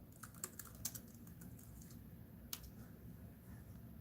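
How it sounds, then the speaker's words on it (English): Keys clatter on a computer keyboard in quick, irregular bursts of soft clicks with a few sharper taps, close and quiet, with no speech. "Let me type that in."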